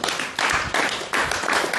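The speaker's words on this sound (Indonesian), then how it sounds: "Tepuk tangan." Audience clapping at a religious talk, a brief burst of several loud, uneven claps in quick succession lasting under two seconds.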